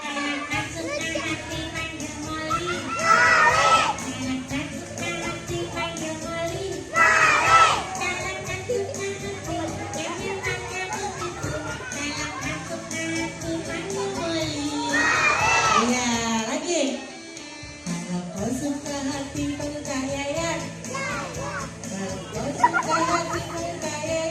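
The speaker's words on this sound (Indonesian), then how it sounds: "Kalau dibilang tepuk satu, bilangnya boom." Children at a school Isra Mi'raj gathering answer a leader's call with a single clap and a loud shouted 'boom', several times as sharp group bursts over a lively, chattering hall.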